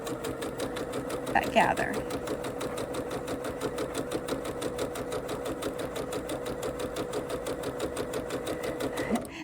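Sewing machine back stitching a single stitch on double brushed polyester for a summer flutter sleeve dress, a steady rapid mechanical chatter running throughout with a brief voice speaking over it.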